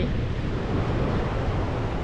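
Steady broadband roar of sea surf at a Thai beach, continuous and fairly loud, with wind rumble across the microphone and no talk.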